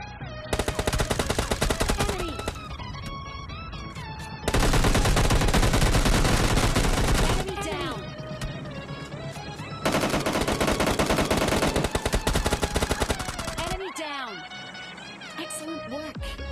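M4 assault rifle and M24 sniper rifle fire in PUBG Mobile Lite, with loud rapid automatic bursts and sharper single shots over game music and effects, and a voice talking throughout.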